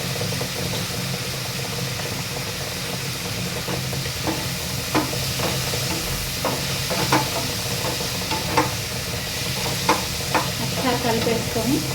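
Brinjal curry sizzles and fries steadily in a pan while a utensil stirs it, giving scattered scraping knocks over a continuous close hiss with no talking.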